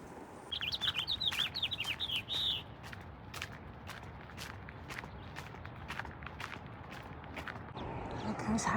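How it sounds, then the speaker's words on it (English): Birds at a salt marsh nature park chirp in a lively burst of warbling calls at night, joined by steady crunching footsteps on a path that continue after the calls fade. "you can hear the birds making all kinds of noise at night."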